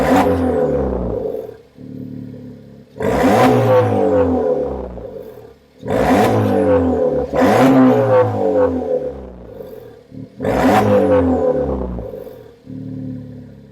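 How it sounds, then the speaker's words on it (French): A Suzuki Swift Sport with its exhaust silencer removed, heard close up and loud. It revs hard in three or four rising blips, each falling back to a rough, burbling idle between the pulls. "je vais démarrer la voiture"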